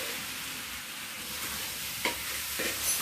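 Potatoes, spices and chicken mince get stirred in a hot pan, a continuous frying hiss broken by a couple of scraping strokes of the spoon close up.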